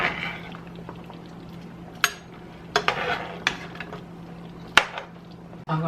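Oxtails being flipped over in a cooking pot, several sharp metal clanks and scrapes of a utensil against the pot over a low simmering bubble and hum, no talking.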